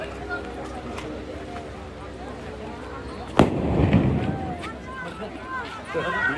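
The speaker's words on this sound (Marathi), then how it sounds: "एक बॉम्बचा या ठिकाणी स्फोट झालेला आहे" A simulated bomb blast during a civil defence mock drill, one sharp loud bang midway followed by a rumbling burst, set against steady crowd noise and talking voices before and after.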